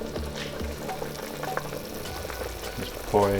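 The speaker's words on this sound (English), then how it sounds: "So we're gonna mix the flour." Flour being stirred and fried in a pan for beef nihari, a steady close sizzle with scraping stir strokes and occasional clinks, moderately loud throughout.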